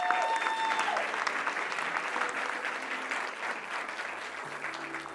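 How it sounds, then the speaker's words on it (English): Audience applause at a bank industry keynote conference, a steady wash of clapping from a large crowd that holds an even level throughout, with a brief cheer early on. "If you'd give them a round of applause"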